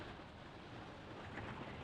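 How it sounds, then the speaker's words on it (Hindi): Heavy monsoon rain during a road trip near the Nepal border, a dense, steady roar of broadband hiss with no pauses or other sounds. "इतनी तगड़ी बारिश, कमाल है भाई"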